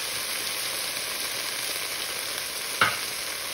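Korean chili sauce mixture stirred in a hot pan gives a steady, even sizzle throughout, broken once near the end by a short utensil scrape, close with no talking.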